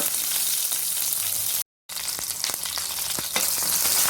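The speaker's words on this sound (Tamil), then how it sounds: "வெங்காயம் பூண்டெல்லாம் நல்லா வதங்கட்டும்" Onion and garlic sauté steadily in a hot pan for a Tamil omavalli leaf chutney, a continuous close sizzle with small crackles and stirring scrapes, briefly cut to silence partway through.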